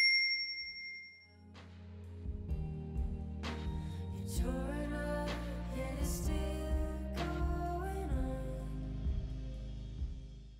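A notification bell chime rings out, bright ding tones with a sustained musical tail layered over several struck notes that decay slowly, loud and clear with no talking.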